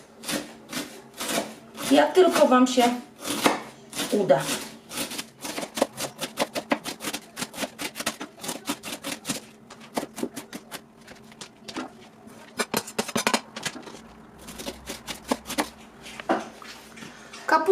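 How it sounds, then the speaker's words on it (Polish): A knife finely shreds half a small cabbage on a cutting board, producing rapid close rhythmic chopping clicks that continue steadily, with someone speaking briefly near the start. "Także połowę kapusty poszatkować tak bardzo"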